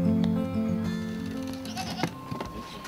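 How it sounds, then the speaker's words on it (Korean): Goats on a small backyard farm in a California residential neighborhood bleat in a loud, wavering call at the start, followed by a few shorter bleats and rustling, all close by with no talk. "이곳에는 6마리의 염소와"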